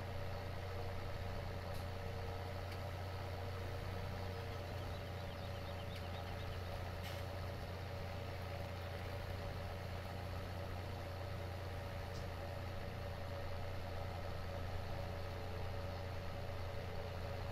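A tractor engine in Farming Simulator 17 runs at a steady low idle, a constant droning rumble with a faint hum on top, heard alone without any voices.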